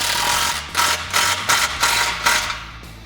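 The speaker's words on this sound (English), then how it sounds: "What we're going to do is use that same 15mm socket to tighten it up." Ratchet with a 15mm socket tightening an exhaust clamp on a Jeep Wrangler JL with a Borla axle-back exhaust, a series of about six crisp clicking pulls in a steady rhythm, close up.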